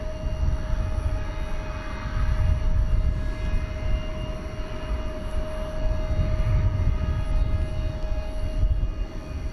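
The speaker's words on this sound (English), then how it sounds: "we got a Spirit Airbus A320neo. This is arriving from Miami, flight 1019." A Spirit Airbus A320neo jet arrives at DFW Airport at night, a broad, steady engine roar at a moderate distance that swells slightly and holds for the whole stretch.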